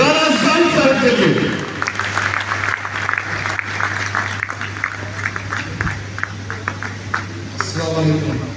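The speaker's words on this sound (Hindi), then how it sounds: "जोरदार तालियां होनी चाहिए राना जायद साहब के लिए।" Audience applause welcoming Rana Zayed at a City Housing property event, a steady round of many hands clapping that fades in after a spoken introduction and continues for several seconds, with a voice returning near the end.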